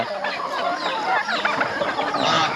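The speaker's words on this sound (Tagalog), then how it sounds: "malalaki na mga pabo natin dito" A flock of turkeys on a farm gobble and cluck continuously at close range, a dense overlapping chorus of poultry calls with no break.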